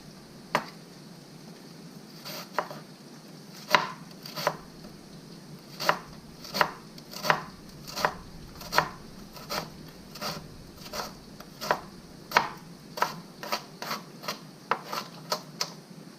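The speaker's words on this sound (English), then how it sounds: "And I'll cut up a little bit more cabbage." Kitchen knife chops cabbage on a cutting board with a steady series of crisp, close cuts. The strokes are fairly quiet and come in irregular runs over a faint background hum.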